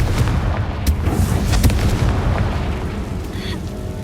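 A Confringo fire spell cast in the Hogwarts Legacy video game, a loud booming blast with crackling bursts that rumble steadily throughout, with a sharper pop near the middle and a faint whoosh toward the end.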